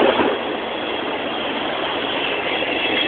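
A Class 158 Super Sprinter diesel unit at Doncaster station, a steady loud rumbling drone of engine and rolling wheels that stays even for the whole moment, near and with no talking.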